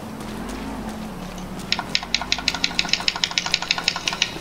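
A motorbike engine idles in a video game, giving a low steady hum, then settles into a rapid, even ticking putter that runs for several seconds with no voices.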